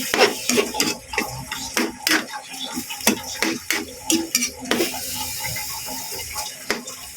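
Sautéed corn dish with sotanghon and patola stirred in a pan, a steady run of scraping and clinking spoon strokes against metal, close and fairly loud, with light sizzling underneath.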